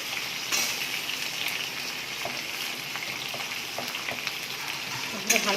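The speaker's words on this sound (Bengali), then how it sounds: "এগুলো ভালো করে ভেজে নেব।" Pointed gourd, potato and taro sizzle steadily in a pan of hot oil for an Indian curry, a continuous crackling hiss with a few soft knocks, and a voice speaks faintly underneath.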